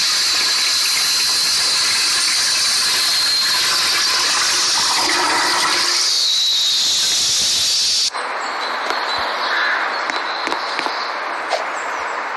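Kohler Kingston urinal flushing in a Roblox game: a loud, close rush of water and hiss that runs steadily, shifts in tone partway through, then continues more thinly, with no voices.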